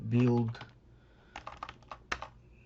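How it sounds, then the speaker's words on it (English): A web address is typed on a computer keyboard. A brief voice comes first, then a short, uneven burst of close, crisp keystrokes follows. "I'm going to type buildpassiveincome.com"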